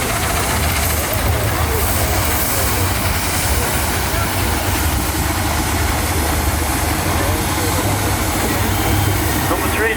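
A small 4-inch scale Suffolk dredging tractor, a miniature steam traction engine, runs steadily at a traction engine rally, its low continuous chuffing rumble loud and close under a busy outdoor crowd with people talking.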